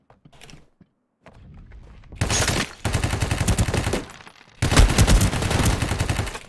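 Gunfire from the video game Ring of Elysium rattles in two loud, rapid bursts of automatic shots, following a few sparse softer thumps.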